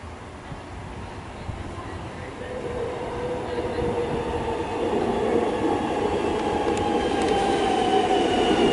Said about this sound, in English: We've got a Belgrave service arriving. Platform 2.